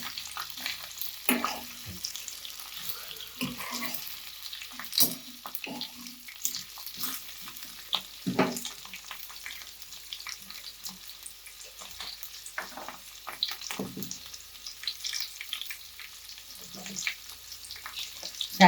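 Large onion pieces fry in a pan for a Gujarati capsicum curry with yogurt, a soft steady sizzle with the scrape and clatter of stirring throughout.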